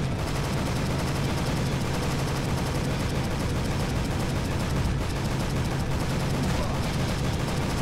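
Gunfire in the video game Jurassic the Hunted rattles in dense, continuous bursts of rapid shots, loud and unbroken throughout, with heavy booming impacts layered underneath.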